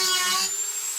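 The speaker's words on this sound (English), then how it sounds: "I do need to bore these back holes out a little bit more." A power drill bores out holes in a metal bracket during a wheel bearing job, a steady high whining drone up close that cuts off partway through, leaving a fainter tonal hum.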